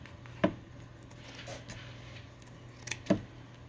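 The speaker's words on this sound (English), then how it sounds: "So I'm just going to cut across this here and try to be as straight as possible." Scissors cut across a handmade junk journal cover, giving two brief, crisp snips a few seconds apart against a quiet room background.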